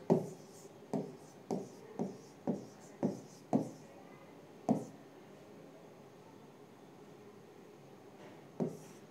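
Chalk or marker writing a word on a classroom board, heard as a quick series of about eight sharp taps and strokes, then a pause and one more stroke, faint and close.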